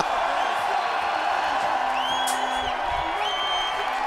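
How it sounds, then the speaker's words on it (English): A large crowd roars and cheers continuously at a BMX spine final in Montpellier, a dense wall of sustained noise with scattered whoops rising above it throughout. "the crowd is going insane here"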